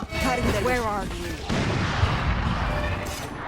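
Gunfire in the tactical shooter Valorant during a ranked match, with repeated shots and booms over game ambience, while a voice speaks at the start.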